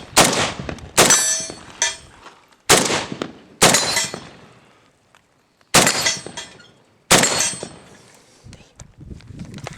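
Six sharp, loud rifle shots from a modified AK47-pattern MAK-90 crack at uneven intervals, each leaving a ringing outdoor decay.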